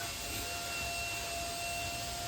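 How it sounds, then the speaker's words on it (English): A vacuum cleaner whirs steadily close by inside a BMW E30 car interior, a constant high-pitched suction drone with no pauses. "I'm just giving it a little bit of a vacuum right there, trying to get rid of all the mess"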